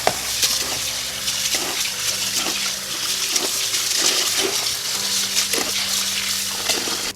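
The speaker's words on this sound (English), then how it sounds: "Next we'll rinse until the water runs clear." Parboiled rice is rinsed in a pot under running tap water, a continuous splashing stream broken by repeated sloshes and stirring as the grains are swirled.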